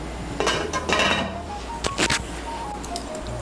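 Dishes and a serving spoon clink as raw banana shahi kofta curry is plated, with several close metallic knocks in short bursts and no talking.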